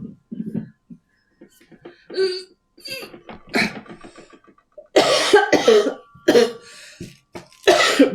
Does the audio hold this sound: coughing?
yes